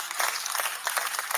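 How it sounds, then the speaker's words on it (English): An audience gives a short burst of applause at a live show taping, many hands clapping in a brief, fairly loud flurry. "Round of applause to you."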